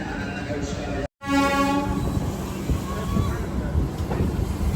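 A passenger train departs Gorakhpur Junction station, a loud horn blast sounding after a brief dropout, followed by steady rumbling and wind noise from on board.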